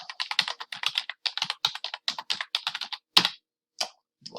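Fast typing on a computer keyboard for a whiteboard app's text tool, a close, crisp run of quick key clicks in irregular bursts with short pauses and a few heavier taps near the end, no voice.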